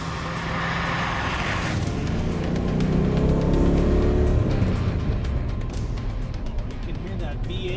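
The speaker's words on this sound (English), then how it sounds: "Behind you, popping and crackling, lots of torque." An early, original De Tomaso Pantera with a 351 Cleveland engine pulls away loudly, its exhaust rumbling and swelling before fading as the car moves off, with someone talking over it.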